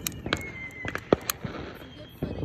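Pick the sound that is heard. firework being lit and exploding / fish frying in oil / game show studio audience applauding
firework being lit and exploding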